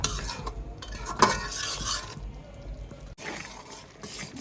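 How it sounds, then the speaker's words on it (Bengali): Chili and cumin powder being stirred into chicken in a pot: scraping spoon strokes and light clinks over a soft sizzle, close and fairly loud, with a brief clatter partway through and no speech. "ভালো করে নেড়ে একটু মিশিয়ে নিচ্ছি মশলা।"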